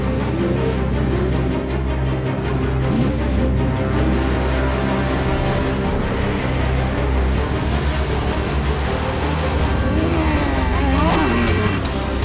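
Off-road race trucks roar around Chicagoland Speedway, a dense, continuous wash of engine noise and rumble with no breaks, steady and loud throughout.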